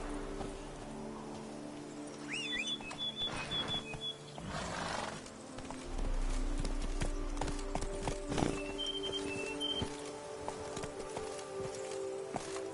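Horse hooves clip-clop steadily in The Witcher 3: Blood and Wine, a moderate walking rhythm over a game soundscape with faint birdsong and ambient tones, with a brief snort or whinny in the mix.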